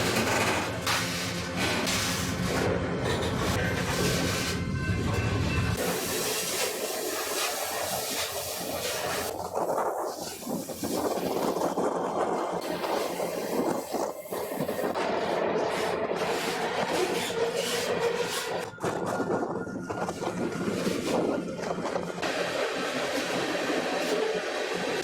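A Houston to Tulsa freight train rumbles and hisses along continuously, a loud, sustained rolling noise with shifting metallic squeals and bursts of steam-like hiss throughout.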